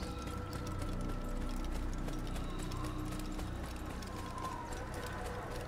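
Horse hooves clopping in the video game Assassin's Creed, a steady rhythmic clip-clop of riding at a quiet, distant level with faint ambient game sounds behind.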